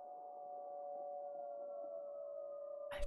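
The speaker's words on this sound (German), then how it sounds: "was ist das für eine Sirene?" A steady, sustained siren tone in the video game Dying Light 2, holding one pitch for about three seconds before a sudden noisy burst at the end.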